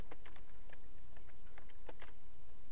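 Rapid typing on a computer keyboard, a steady patter of fairly loud, near key clicks with a few sharper taps, running continuously with no talk over it.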